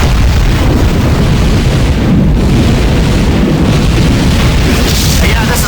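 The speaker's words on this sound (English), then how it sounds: "There's been some kind of explosion." A loud, sustained explosion rumbles in the space game Tachyon: The Fringe, a dense low boom that fills the whole stretch without letting up.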